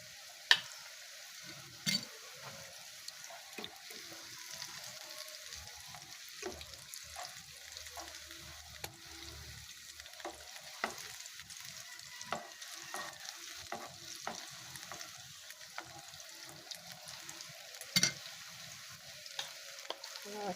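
Tuna nuggets fry in a pan at breakfast, a soft continuous sizzle under scattered clinks and scrapes of stirring, fairly quiet and close, with no talk.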